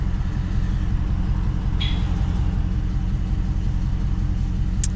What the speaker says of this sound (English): This car loud. I had to chop the mufflers out.